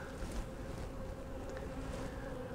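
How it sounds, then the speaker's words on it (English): A steady buzzing hum of bees at the entrance of a small micro-swarm hive, a continuous close drone with no talking. "Entrance looks good. Got a few bees hanging out."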